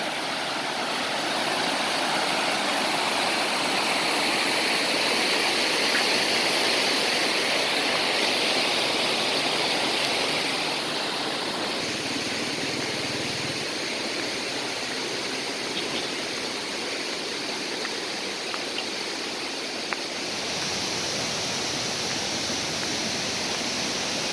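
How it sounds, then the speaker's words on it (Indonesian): A clear-water waterfall at an outdoor bathing spot in North Sumatra pours steadily, filling the scene with a continuous broadband rush with no talk. "Air terjun air jernih."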